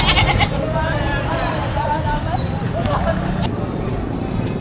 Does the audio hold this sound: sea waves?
no